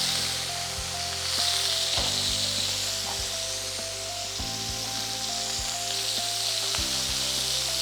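Marinated pieces for Kashmiri chilli chicken fry in hot oil in a pan with a steady, close sizzle, accompanied by background music.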